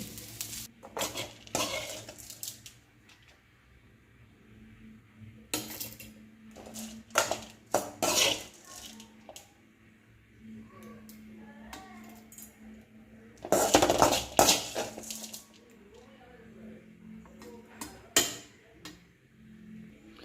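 Fried ingredients for a pirandai chutney are moved into a mixer jar, heard as scattered close clinks and scrapes of a spoon against metal and glass, with quiet gaps between.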